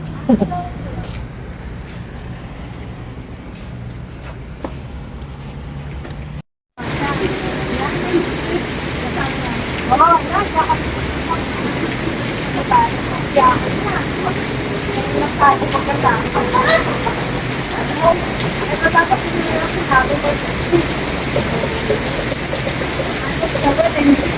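Heavy rain pours steadily as a dense, constant hiss outdoors near Philippine Arena in Bulacan, with a brief dropout early on; voices murmur faintly beneath the downpour.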